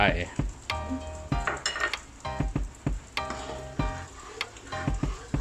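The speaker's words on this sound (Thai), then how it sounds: "แล้วก็ผัดส่วนผสมทั้งหมดนะครับ ให้เข้ากันเลย" Crab curry mixture with egg is stir-fried in a pan: a constant sizzle under repeated scraping and clinking of a metal utensil against the pan in an uneven rhythm.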